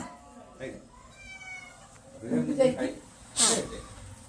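A yellow cat that has wandered indoors gives a few meows of rising loudness, the last one sharp and strident, with household noise and talk around it.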